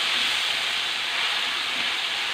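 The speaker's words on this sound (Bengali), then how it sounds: "এর জন্য আঁচটা কমিয়ে রেখে আমি ভাজাটা ভাজছি।" Fish frying in a pan over a low flame: a steady, even sizzling hiss, close and continuous, with no voices.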